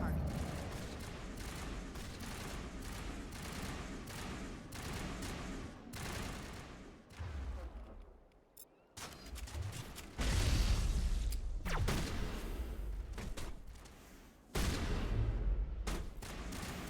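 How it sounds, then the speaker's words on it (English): Sustained crossfire in the video game Mass Effect, with dense rattling automatic gunfire and blasts, continuing over about seventeen seconds with a brief lull midway, mixed with mechanical clanks and occasional voices. "Manovai is under coordinated crossfire."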